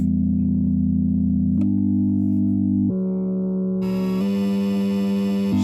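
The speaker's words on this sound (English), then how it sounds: "This is a sine wave." Smooth, soft sine-wave chords from a Chord Machine Eurorack synthesizer module, held for about a second each, changing pitch in steps; later chords sound brighter. No talking.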